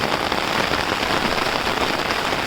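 Heavy rain drums steadily on an umbrella, a dense, loud, unbroken patter of drops close overhead with no pause.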